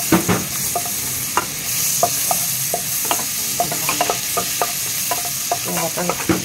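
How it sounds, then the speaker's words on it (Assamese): Chopped onions frying in a pan on an induction cooktop for cucumber soup, with a steady close sizzle broken by repeated light spatula scrapes and taps as they are stirred. "পিঁয়াজখিনি ভাজি ল'লোঁ"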